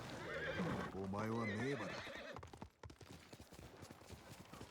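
Horse in the video game Ghost of Tsushima, a loud whinny that rises and falls for about a second, followed by a run of galloping hoofbeats on the ground.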